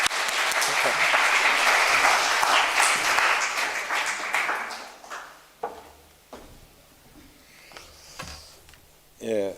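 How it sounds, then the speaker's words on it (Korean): A church congregation at a mission service claps warmly to welcome a Japanese missionary, dense applause for about five seconds that fades into scattered claps, shuffling and faint movement. "우리 일본 선교사님을 우리 박수로 맞이하도록 하겠습니다."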